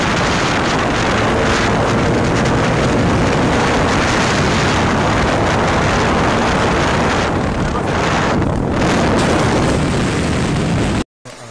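A racing motorcycle ridden at speed, heard as a loud, continuous roar of engine and rushing wind buffeting the microphone, sustained throughout and cutting off abruptly near the end.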